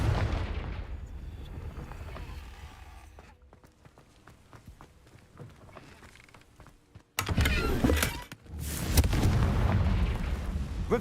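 A Confringo blasting spell in Hogwarts Legacy erupts with a sudden loud explosion after a quieter stretch of footsteps and ambience, followed by a sustained roaring burst and rumbling aftermath.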